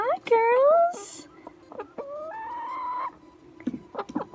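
Backyard hens cluck and squawk close by, several rising and falling calls in quick succession with short pauses, mixing with light handling noises and soft background sounds.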